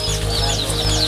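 Javanese chickens on a farm in a village in Cirebon, a close, brief burst of clucking and fowl calls over a steady low hum.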